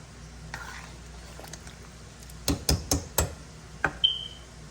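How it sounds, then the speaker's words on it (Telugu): A spoon stirs mutton chakoli gently in a pan, making a handful of soft scraping knocks in a quick run with a short pause before the last two, over a low, quiet background. "ఇప్పుడు ఒక్కసారి మెల్లగా కలపాలి"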